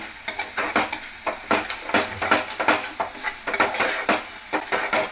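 Ginger garlic paste and spices fry in a pan with a steady sizzle, while a utensil stirs and scrapes rapidly and repeatedly against the metal, close and fairly loud throughout.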